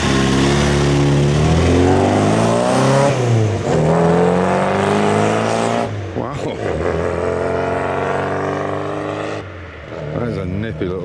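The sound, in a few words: Morris 1000 Traveller classic car engine running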